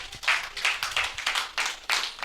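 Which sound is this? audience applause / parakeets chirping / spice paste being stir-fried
audience applause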